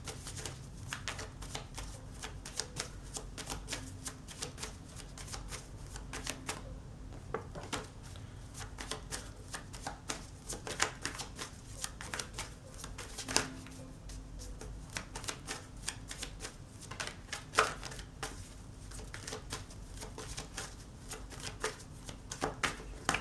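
Tarot cards are shuffled by hand close up for over twenty seconds, a dense run of crisp riffling taps and flicks with a few louder snaps and no speech.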